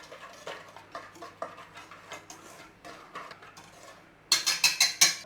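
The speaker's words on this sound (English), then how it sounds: "Mix all that in there." Whisking flour and seasonings in a bowl for seitan, a run of rhythmic clinking taps of a whisk against the bowl, then five louder, sharper metallic strikes close by at the end.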